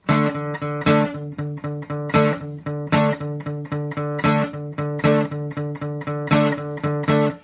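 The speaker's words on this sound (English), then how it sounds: "just put some stabs in" Rhythmic guitar chords with short, sharp stabs accenting a steady strummed pattern, played alone and fairly loud with clipped, muted attacks.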